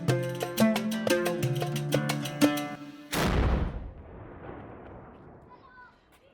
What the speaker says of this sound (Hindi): अजमेर शरीफ एक ऐसा लौता शहर है जहाँ पर तोप के धमाके का इस्तेमाल किया जाता है रोज़ा खोलने के लिए